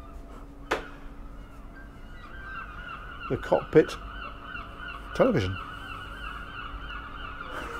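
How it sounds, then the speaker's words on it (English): Noisy seagulls call in the background aboard a Princess Y95 superyacht, several loud honking squawks in short bursts over a low hum, while someone talks. "There's some noisy seagulls going on in the background."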